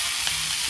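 Stuffed kaita (spiny gourd, chichinda) filled with masala cooks on a hot tawa, giving a steady, close, even sizzle with no break.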